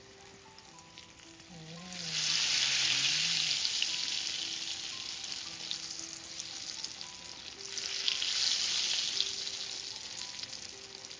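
Flour-coated eggplant sizzles in hot oil, a steady frying hiss that swells loudly around two seconds, eases off, then rises again near eight seconds, with no voices over it.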